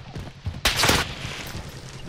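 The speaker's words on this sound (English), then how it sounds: "Oh, somebody just sniped." A single sharp sniper rifle shot rings out in a Call of Duty match, a broadband crack with a short rolling tail over steady low game ambience.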